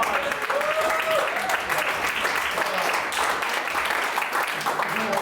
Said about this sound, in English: And see, here an applause